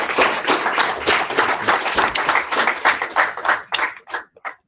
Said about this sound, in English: can you join me in giving a round of applause to Pro Football Hall of Famer Anthony Muñoz?